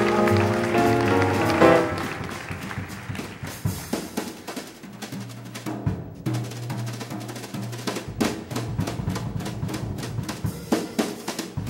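A live concert audience claps along in a steady rhythmic beat, mixed with band music and drums at moderate loudness, with brief crowd noise and no clear speech.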